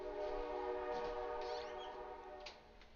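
A train passes by outside an open door, its horn blaring in a sustained harmonic tone over rumbling cars, loud and steady before easing slightly near the end.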